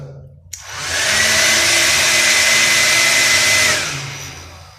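A small car vacuum cleaner fan motor switches on and runs with a steady high whine and airy rush for a few seconds, then winds down.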